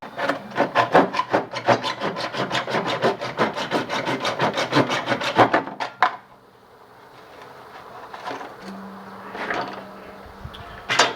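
A cordless power tool cutting PVC pipe for a storage shelf, giving a loud, close, rhythmic rasping buzz for about six seconds, then stopping and leaving a quiet room with faint handling sounds.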